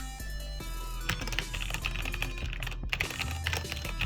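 Typing on a Keychron K8 mechanical keyboard fitted with brown switches: a steady, fairly close run of quick key clicks and thocks with no talking over it.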